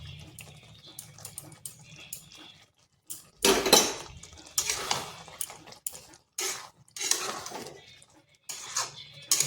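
Bottle gourd curry, a plain vegetarian dish with a spoon of Gobindobhog rice and chopped coriander leaves, is stirred in a cooking pot. Intermittent close scraping and clattering comes in short bursts separated by brief quiet gaps.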